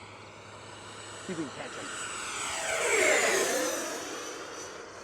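A Horizon Hobby Viper 90mm RC jet flies past at full throttle with its ducted-fan engine, a rising whine that swells to a loud passing roar and then fades. Brief speech comes before it.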